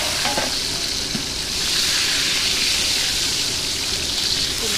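Stuffed meat rolls sear and brown in hot oil, a steady dense sizzle with faint stirring that holds loud and even throughout without any speech.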